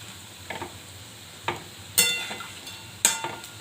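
Small Aamir bora fritters frying in oil, with a soft sizzle underneath and several sharp clinks and crackles spaced roughly a second apart, close and fairly quiet.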